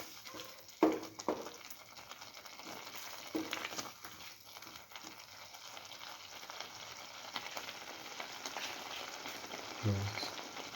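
Eggs being slowly scrambled in a pan for a cucumber coconut stew, giving a steady low sizzle with soft stirring and scraping, a few louder clacks of utensil against the pan, and no talking.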